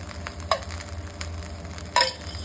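Egg fried rice stirred in a pan with ghee, a faint steady sizzle under a low hum, broken by two sharp scraping clinks of the spoon against the pan.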